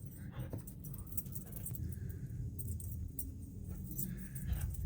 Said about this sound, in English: my dogs, they're always making noise.